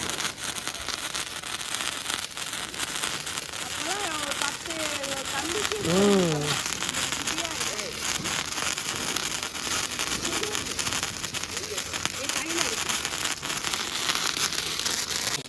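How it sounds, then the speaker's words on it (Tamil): A wire sparkler burns at a Diwali celebration, giving off a long, steady fizzing crackle while people talk nearby throughout. "இது ரொம்ப நேரமாக வெடிச்சிட்டே இருக்குது கம்பி மெத்தட்"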